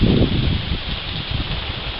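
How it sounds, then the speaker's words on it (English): Rain pounds on outdoor furniture during a rainstorm, a dense steady hiss with a louder patter at the start, close and continuous with no talking. "Look at this, first time I'm seeing the furniture pounded with rain."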